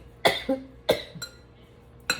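Three or four short, sharp coughs in a quick irregular burst, close to the microphone, with a quiet room behind them.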